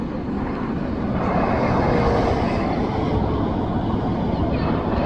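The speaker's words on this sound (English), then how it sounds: "Flight landing." An airplane landing at the international airport in Al Madinah Al Munawwarah gives a loud, steady rumbling roar, a dense continuous wash of engine and air noise that swells slightly midway and holds without a break.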